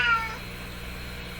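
A cat gives a single short meow close by, heard over a steady electrical hum from a vintage Nordmende Caruso console radio.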